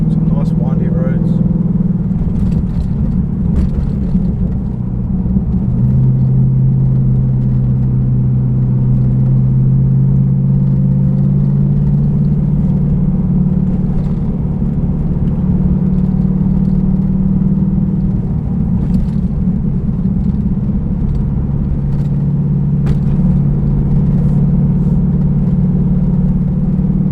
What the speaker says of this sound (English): Just let the viewers hear the car